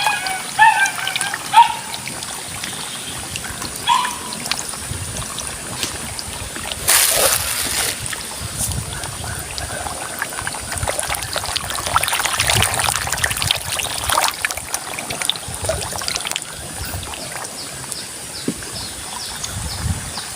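Water flows at a moderate rate from a 4-inch inlet pipe into a fish pond. It makes a steady splashing trickle throughout, with a few louder spatters and faint outdoor background noise.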